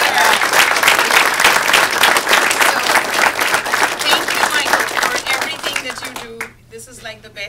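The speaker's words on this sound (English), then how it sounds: "let's give a big round of applause for Doc for all the work" A university audience at a presentation event claps loudly and steadily for several seconds, the applause thinning and fading out near the end as a voice begins speaking.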